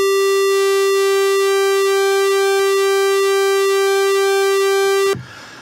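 A loud, steady buzzy pulse-width-modulated tone from a Studiologic Sledge synthesizer holds for several seconds, then cuts off abruptly, leaving a faint hiss.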